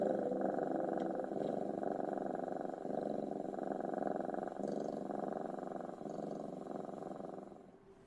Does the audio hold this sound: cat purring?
yes